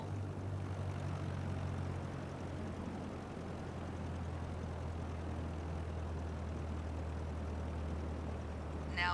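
A propeller aircraft engine idles in Microsoft Flight Simulator 2020, a steady low drone with a constant hum underneath, unchanging and moderately loud throughout.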